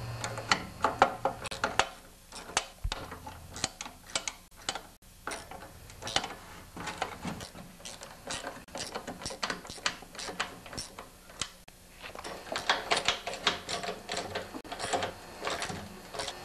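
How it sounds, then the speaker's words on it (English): Nuts on a John Deere 5/20 snowblower chute being tightened with a ratchet, producing rapid close clicking and ratcheting in bursts with short pauses between them. "Now just tighten up all the nuts and you're done."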